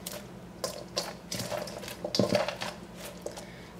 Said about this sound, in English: Mix it again. Make sure everything's well combined.